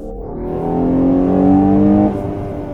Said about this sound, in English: 8th speed, you see I'm on the gas now.